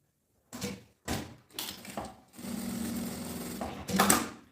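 Sewing machine stitching a seam on a fabric bag, several short starts and stops followed by a longer steady whirring run, close and fairly loud.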